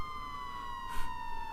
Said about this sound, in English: That's a police siren,